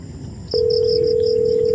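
A steady, loud telephone call tone sounds continuously while a cellphone is dialed, preceded by faint background noise, with a soft repeating high chirp running above it and no talk.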